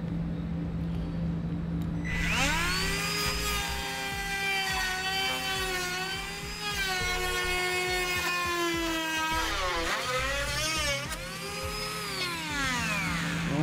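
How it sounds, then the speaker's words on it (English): A high-pitched rotary tool whines as it cuts through a plastic bumper cover on a 2009 Honda Fit, its pitch rising and dipping under load in a sustained, close, loud grind. "I'm going to be using a rotary tool"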